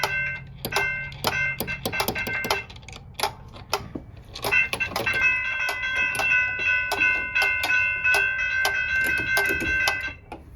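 A railroad crossing's metallic bell rings in rapid, steady repeated strikes with lingering tones, close by and fairly loud, pausing briefly before continuing.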